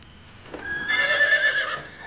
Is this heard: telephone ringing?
no